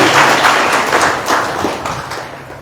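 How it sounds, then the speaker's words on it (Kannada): Loud audience applause for singers after a devotional song at a purana recitation, dense clapping from many people that fades gradually toward the end. "ಅದ್ಭುತವಾದ ಗೀತೆಯನ್ನು ಆಡಿರ್ತಕ್ಕಂಥ ಗವಾಯಿಗಳಿಗೆ ಜೋರಾದ ಚಪ್ಪಾಳೆ ತಟ್ಟುವುದರ ಮುಖಾಂತರ"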